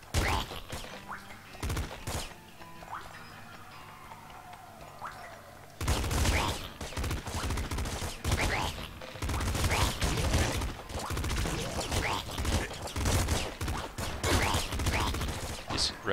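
Rapid bursts of pop rifle gunfire in the Nuclear Throne video game, quiet at first with a few scattered shots, then dense, loud, continuous volleys of small popping shots for the rest of the scene.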